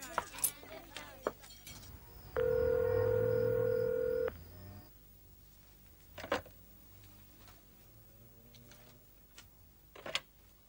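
A telephone rings in a quiet room, a single steady electronic ring lasting about two seconds, followed by brief handling clicks and faint background sounds.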